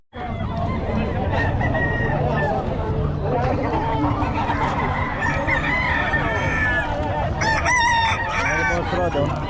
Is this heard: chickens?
yes